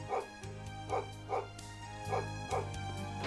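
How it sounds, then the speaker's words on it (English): A dog barks repeatedly in the role-playing game Trails of Cold Steel III, a steady series of sharp woofs over a sustained musical background hum, evenly spaced and fairly loud. "That dog's always making a racket."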